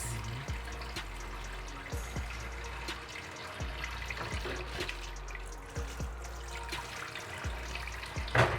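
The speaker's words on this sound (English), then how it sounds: "So I'm done washing the fish and shredding" Tap water runs steadily into a sink while fish is washed, a continuous splashing stream with intermittent soft knocks and drips, close and unbroken throughout.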